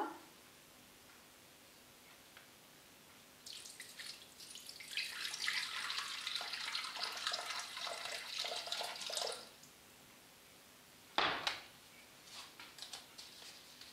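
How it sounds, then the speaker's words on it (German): Water is poured into a Thermomix TM5 mixing bowl for bread dough, a steady splashing stream of several seconds close by, followed by a short sharp clunk and quiet. "Die 300 Gramm Wasser."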